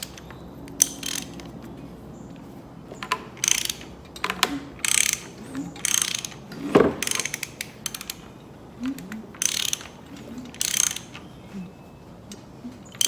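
A hand ratchet clicks in repeated bursts as an engine is turned over by hand in a garage, with uneven strokes and pauses, close and fairly clear, plus a brief metallic creak midway.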